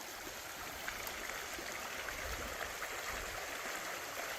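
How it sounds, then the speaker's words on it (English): Pine Creek flowing along a trail in Red Rock Canyon, a steady, soft rushing and trickling of water that runs without pause and with no one talking. "Okay, we've reached Pine Creek."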